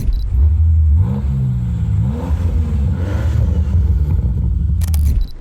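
A Land Rover Defender Octa SUV engine roars and revs, pitch climbing and dipping in a few surges, loud and close, then cutting off abruptly near the end.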